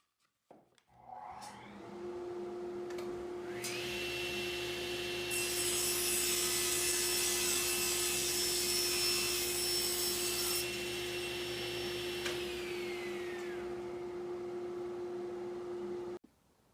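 SawStop table saw cutting wood while a dust collector runs inside the cabinet: a steady loud motor hum, with a harsh, bright cutting roar in the middle that tails off before the machine winds down.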